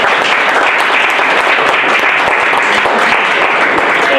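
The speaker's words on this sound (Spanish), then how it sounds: "Un fuerte aplauso." Loud, continuous audience applause at a poetry gathering in Madrid, many hands clapping densely and evenly, close and unbroken for the whole stretch.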